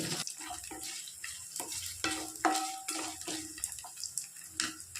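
Garlic cloves stirred and frying in a pan for a village-style medicinal curry for colds and cough, with close, steady sizzling and intermittent scraping stir strokes, alone without talk.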